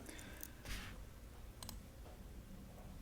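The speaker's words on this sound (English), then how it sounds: "as you hear me typing" Soft keyboard typing, a few scattered key clicks and brief bursts, faint and close, with no talking.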